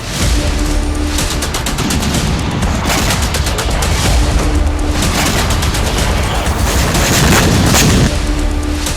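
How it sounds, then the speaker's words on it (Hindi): A rapid barrage of loud blasts and bangs from an attack on an oil depot at night, dense and continuous, with heavy booming impacts recurring every few seconds. "जिसमें एक तेज धमाका होता है"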